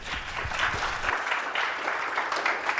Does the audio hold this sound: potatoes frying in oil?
no